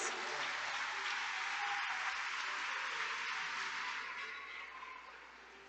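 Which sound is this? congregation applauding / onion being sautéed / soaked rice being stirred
congregation applauding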